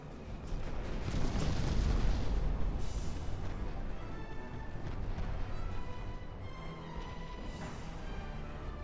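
Heavy naval gunfire in Ultimate Admiral: Dreadnoughts, deep rolling booms of big guns blending into a sustained rumble of distant shelling, with little speech.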